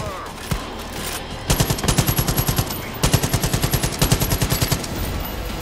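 Rapid bursts of machine gun fire from Far Cry 5 crack loudly and close, in two long rattling volleys of evenly spaced shots after a few scattered single reports.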